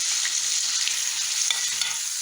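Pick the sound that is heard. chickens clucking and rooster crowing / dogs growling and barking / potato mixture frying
potato mixture frying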